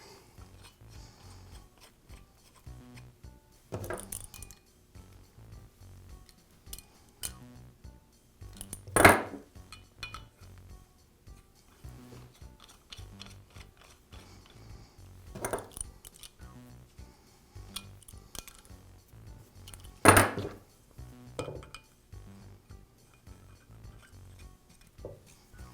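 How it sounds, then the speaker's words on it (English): Metal handles are threaded into the feed shaft of a Jet drill press during a repair. Quiet, sporadic metallic clicks and scrapes ring out close by, with a few sharper clinks standing out. "First, I'll thread the handles back into it."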